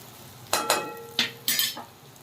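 Tomatoes and onions sizzling in a pan for an eggplant curry, with a few sharp spoon scrapes and clinks as the mixture is stirred over a low frying hiss.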